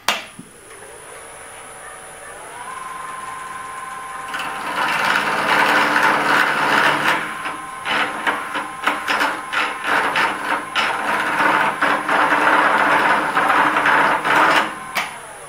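A lathe turning a pen blank made from scrap carbon fiber pieces, beginning with a rising motor whine, then loud, close scraping and chattering of the cutting tool against the spinning blank in repeated bursts over the motor hum.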